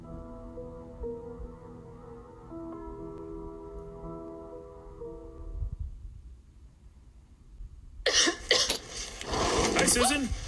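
A person coughs several times at close range, in harsh, broadband bursts that follow a stretch of soft music and a near-silent pause.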